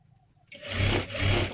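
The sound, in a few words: sewing machine stitching a princess blouse seam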